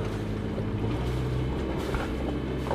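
A sailboat's inboard engine runs at anchor, giving a steady, low, throbbing hum with a faint engine drone on top and no talking.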